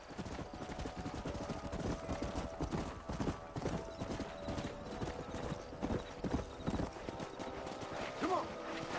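Horses clip-clopping with occasional neighs in the Western video game Red Dead Redemption, hooves beating steadily and close amid game ambience, with a whinny rising near the end.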